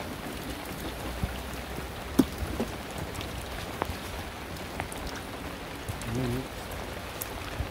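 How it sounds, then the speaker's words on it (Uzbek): Steady rain patters continuously on a surface, a dense even hiss with occasional louder drops, no voices. "Yomg'ir ham to'xtamasdan yog'ib turibdi mana."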